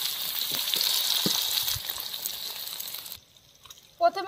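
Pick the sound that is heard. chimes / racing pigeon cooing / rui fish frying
rui fish frying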